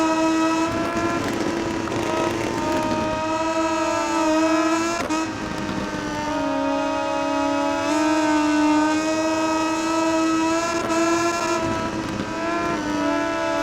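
A Moto2 racing motorcycle in MotoGP20 at Mugello screams at high revs, its engine pitch climbing and dropping sharply at gear shifts several times over a steady, loud drone.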